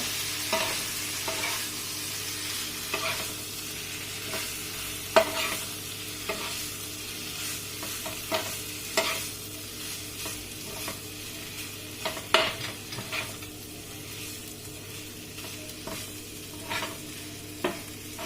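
Kothu parotta with salna being stirred and fried on high flame, a soft continuous sizzle under repeated scraping and clinking of a spatula against the pan, irregular strokes, close and fairly quiet.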